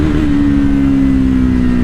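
A Triumph Scrambler 400X motorcycle engine drones loudly and steadily close by, a strong continuous hum with a slight fall in pitch as the bike pulls through a gear.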